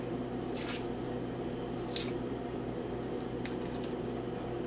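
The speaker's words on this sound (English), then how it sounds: "if you split it down the middle like that, you can usually kind of just pull the casing off" Fingers peel the casing off a split, already-cooked sausage, giving soft wet squishes and a few brief sticky tearing bursts over a low steady kitchen hum, close and fairly quiet.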